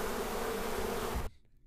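Honeybees buzzing around backyard hives, a steady close hum that holds evenly and then cuts off abruptly near the end.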